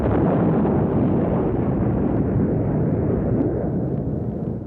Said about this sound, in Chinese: 最后我们选用了轰鸣声去还原火箭升空后的音效